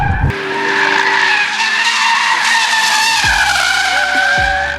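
A Mazda RX8 drifts with its tires skidding and squealing loudly and continuously, while the engine roars underneath and then drops in pitch near the end. No one speaks.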